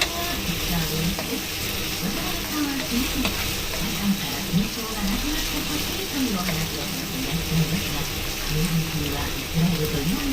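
String beans frying with pork in a pan give a steady, close sizzle and crackle with occasional stirring scrapes, while music plays underneath throughout.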